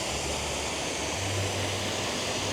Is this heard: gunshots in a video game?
no